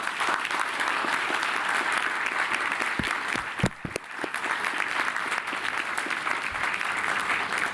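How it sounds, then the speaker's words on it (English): An outdoor crowd at a New York groundbreaking ceremony for a museum's new center applauds steadily, many hands clapping in a continuous wash with a few sharp louder claps and knocks up close. "Please give them all a round of applause."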